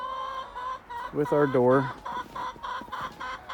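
Chickens cluck and call close by inside a coop, with one bird giving a loud drawn-out squawk in the middle and steady clucking around it, while a person speaks briefly.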